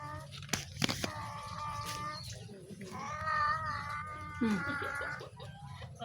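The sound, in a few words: cat meowing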